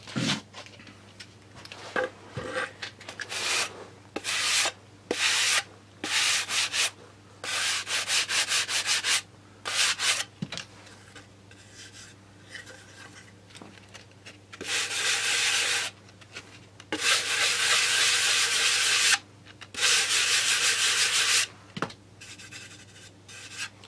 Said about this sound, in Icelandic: þar er ég búinn að setja fylliefni sem ég þarf núna að pússa niður